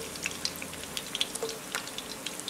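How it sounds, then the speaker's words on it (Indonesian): Shallots go into hot oil in a stainless pan, giving scattered crackles and light sizzling pops that are soft and irregular, with no talk over them. "Minyak sudah panas, saya masukkan bawangnya dulu,"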